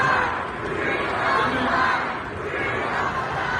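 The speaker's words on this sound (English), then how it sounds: "So now the crowd's shouting from past." A crowd shouting at a speech, a dense and continuous roar of many voices that holds loud and steady throughout.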